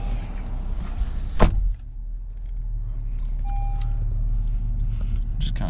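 A 2020 Honda Pilot LX starts by push button: a short sharp click, then the engine settles into a steady low idle hum that continues to the end.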